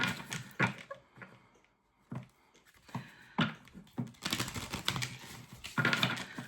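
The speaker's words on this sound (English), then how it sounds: "These cards got lots of shuffles before I started" Tarot cards being shuffled by hand, heard as close, irregular bursts of riffling and snapping card sounds separated by brief pauses, with no talking.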